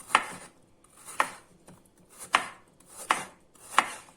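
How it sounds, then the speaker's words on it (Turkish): A knife slices peeled carrots into rings on a cutting board, five sharp crisp cuts at a slow, steady pace, close and clear with quiet between strokes. "Bu şekilde halka halka doğruyorum."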